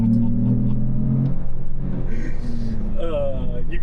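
A 2024 Lexus GX 550 with full-time four-wheel drive accelerates in Sport Plus mode, a steady low engine drone rising in pitch from inside the cabin, with a voice speaking over it.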